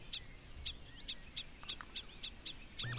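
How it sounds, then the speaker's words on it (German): A northern lapwing calls repeatedly in the background beside a small puddle, giving a steady series of about nine short, high, evenly spaced notes over faint ambient noise. "Was man dann nämlich im Hintergrund meiner Aufnahme noch hören kann, das ist Vanellus Vanellus, ein Kiebitz."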